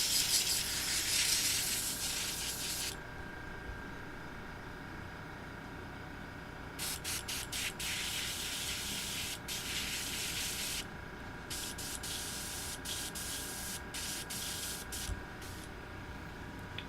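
An airbrush being cleaned out while painting a model M978 fuel truck, spraying in a steady hiss at first, then in a run of short bursts with gaps between them, close and fairly quiet.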